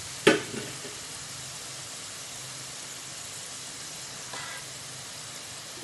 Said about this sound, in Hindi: ये देखिए हमारी दाल फ्राई हो गई है